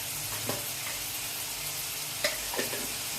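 Onion and tomato sizzle in a little hot oil for a cucumber dosa chutney, a steady close hiss with a few faint stirring clicks and no voices.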